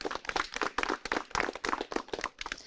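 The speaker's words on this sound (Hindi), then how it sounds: "तो एक बार जोरदार तालियां हो जाएं।" Audience at an organic farming discussion programme clapping in a brisk, uneven burst of individual handclaps, close and fairly quiet, with no talk.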